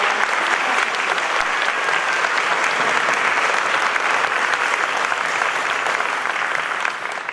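An audience claps for students at a school recognition event, a sustained, full round of applause from a large crowd that stays even throughout and eases just before the end.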